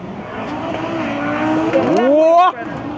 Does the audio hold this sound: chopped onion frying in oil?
no